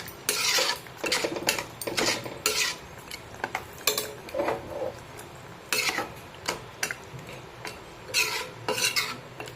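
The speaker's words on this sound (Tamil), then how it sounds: "எடுத்து போட்டு நல்லா மிக்ஸ் பண்ணி விடுங்க." A spoon scrapes and clatters repeatedly against a pan while mixing bottle gourd kootu, producing bursts of close metallic stirring in an irregular rhythm over a faint background.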